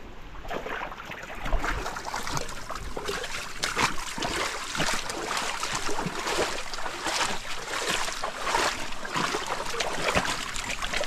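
A stream rushes and gurgles strongly and steadily nearby after a blockage of debris clears, a constant churning flow with no voices.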